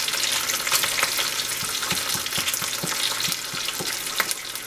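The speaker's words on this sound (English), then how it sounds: "I'm frying another bacon" Bacon strips fry in a hot pan with a loud, continuous sizzle, sprinkled with irregular sharp pops and crackles, heard up close with no voices.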